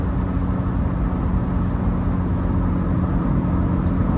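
Low steady exhaust drone from a car cruising at 65 mph, a constant faint hum blended with road and wind noise, unbroken and with no voices.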